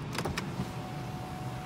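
Electric moonroof motor on a 2018 BMW X2 whirring steadily inside the cabin, a continuous close hum with a few brief clicks at the start.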